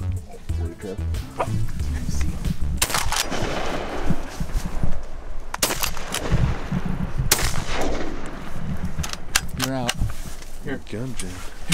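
Shotgun blasts ring out during a duck hunt on mallards, several sharp loud reports spread across the stretch, with dog barks and people talking in between.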